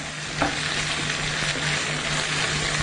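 Vegetables for a British-style vegetable biryani sizzle steadily in a pan, a dense, continuous frying hiss close up with a brief clatter early on and no talking.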